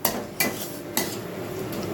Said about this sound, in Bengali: চাউমিন সেদ্ধ হয়ে গেছে, আর পেঁয়াজ কুচিয়ে আর একটা ক্যারট কুচিয়ে ভাজার মধ্যে দিয়ে দিয়েছি